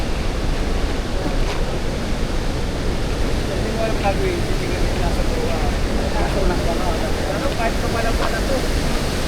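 Pagsanjan Falls in the Philippines, heard from a boat on the river: a strong current and waterfall make a steady, loud, full rushing roar that fills the whole clip, with faint voices now and then.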